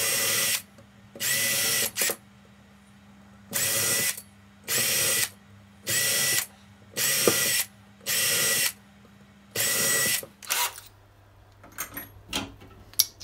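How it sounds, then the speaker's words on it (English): Several short bursts of a power drill boring a pilot hole in wood with a 3mm bit, each about a second long with brief pauses between, close and loud, followed by quieter handling noises. "I'm going to drill a pilot hole so it centres nice and neatly using a 3mm wood drill"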